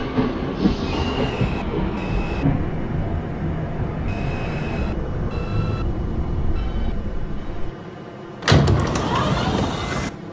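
A New York City subway B train bound for Forest Hills–71st Avenue on the Queens Boulevard line rumbles steadily with wheel squeals, then a loud burst of noise near the end.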